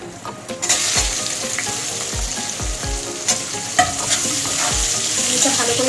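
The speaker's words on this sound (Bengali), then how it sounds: "এটা ভালো করে একটু ভেজে নেব পেঁয়াজটা" Two medium chopped onions frying in a pan for egg posto, a loud continuous sizzle with repeated thumps and scrapes of a spatula stirring close by.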